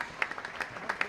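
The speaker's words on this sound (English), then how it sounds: "He's a hero to all these people who are standing and applauding him" Cricket crowd at Headingley Stadium standing and applauding during a Yorkshire v Gloucestershire County Championship match, a steady patter of distant clapping with a few sharper bursts rising from the spread of hands.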